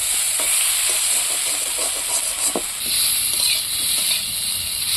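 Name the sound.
poppy seeds and potatoes frying in a pan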